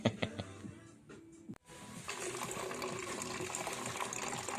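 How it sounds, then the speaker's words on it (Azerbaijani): Oil being poured through a funnel into a Dominar motorcycle engine, a steady trickling gush that starts after a brief clatter and runs on continuously, with faint voices under it. "Yağ doldurur."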